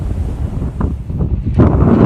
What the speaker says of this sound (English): it's so windy here in Mykonos that it's hard to find a place to do a good stand-up